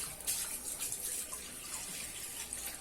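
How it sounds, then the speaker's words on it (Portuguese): Water runs steadily from a tap while makeup brushes are rinsed, a constant close splashing hiss with slight shifts as the brushes move through the stream. "Olha a água."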